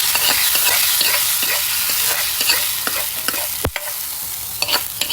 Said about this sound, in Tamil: தாளிக்க வேண்டும்.